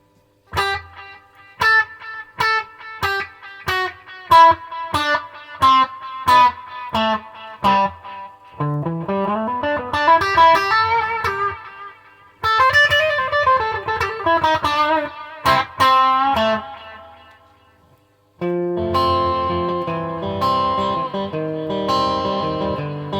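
Electric guitar run through a WEM Copicat tape delay on its repeat setting: plucked notes and chords with trailing echoes, swelling slides and sustained ringing passages, loud and close with a brief pause before a final strummed section.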